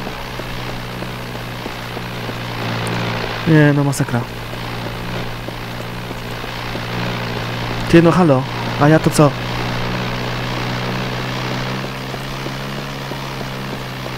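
An airplane engine in the James Bond 007: NightFire video game hums as a steady, droning background, while someone talks over it at several points.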